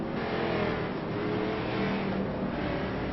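Race cars roar past the start-finish line of a Canam versus SARA stock car race, a dense, steady engine drone holding loud and constant throughout with no clear break.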